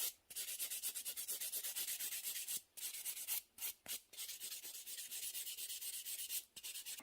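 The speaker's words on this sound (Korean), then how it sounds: "지금 너무 스크래치를 많이 냈기 때문에 샌딩으로 한번 전체" A nail file sands a fingernail surface in rapid, rhythmic back-and-forth strokes, close and soft, with a few brief pauses between runs.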